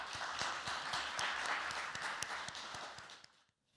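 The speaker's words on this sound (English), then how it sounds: "So please welcome him with a big round of applause." Audience applause at a Korea-Eureka innovation forum welcomes the Eureka president, a steady, fairly quiet patter of many hands that fades out near the end.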